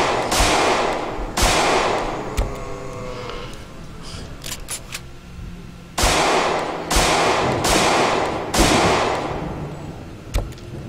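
Loud, close pistol shots ring out in the game Project Zomboid, in spaced single bursts with sharp cracks and short decays, one group early and a tighter run of shots later.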